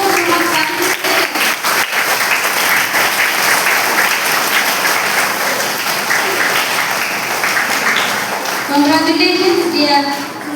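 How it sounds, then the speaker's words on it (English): An audience at a school Diwali celebration bursts into sustained applause for the student performers. Loud, dense clapping carries throughout, while a voice and other chatter rise over it near the end. "So let us give a big round of applause to all who have participated."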